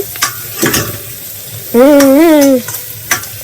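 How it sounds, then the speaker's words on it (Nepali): Onion for Nepali-style chilli wings is stir-fried in a pan, giving short scraping stirs and a light sizzle, while a voice briefly sings or hums a wavering tone midway. "यस्तो हल्का मात्र कुक गरेर स्टर फ्राई टाइपको"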